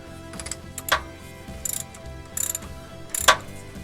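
A 1/2-inch ratchet with a 30mm socket tightens the oil cooler housing on a first-generation Toyota Tundra/Sequoia 4.7L engine, giving four short bursts of rapid pawl clicks spaced about a second apart, close and clear with no talking.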